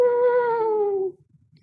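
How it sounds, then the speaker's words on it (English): A cat lets out one long, drawn-out cry that slowly falls in pitch and then cuts off, loud and near, followed by faint low rumbling, used as an eerie horror effect. "cry of a cat"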